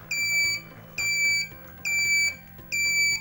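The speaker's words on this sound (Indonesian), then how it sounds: "Bisa didengar buzzernya itu bunyi kan, seperti alarm" A railway level crossing buzzer in an automatic railway gate system sounds four times in even on-off pulses, a shrill alarm-like tone, loud and nearby with no talking.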